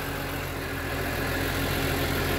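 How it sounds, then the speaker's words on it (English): A BMW E46 M3 from 2004, an SMG convertible, runs with a steady engine drone. The tone holds even and close throughout, with no speech over it. "And here, it sounds very healthy, the engine as well."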